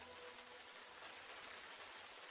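Heavy rain pours steadily as a sound effect in an Urdu radio play. The hiss is dense and continuous, without breaks or voices.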